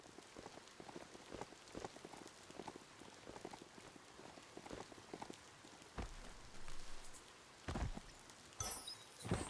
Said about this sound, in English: Take care in the rain